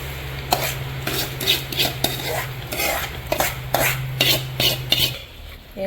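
A thick unniyappam batter with mashed banana and coconut pieces is stirred in a bowl, with repeated scraping and wet slapping strokes of a spoon at a steady rhythm, close and fairly loud, with no talk.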